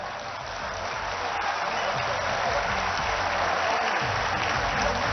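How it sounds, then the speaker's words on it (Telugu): Applause from a large crowd at a Telangana government event fills the space with steady, sustained clapping at even loudness throughout. "తెలంగాణ రాష్ట్ర వ్యాప్తంగా లక్షలాది చప్పట్లు మోగుతూ ఉన్నాయి."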